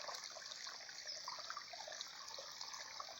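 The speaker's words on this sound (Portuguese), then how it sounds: "Olha aí, pessoal, o barulhinho da água correndo aqui no meio da mata." A forest stream runs through the woods, giving a faint, steady trickling and bubbling flow with a constant hiss and no voices.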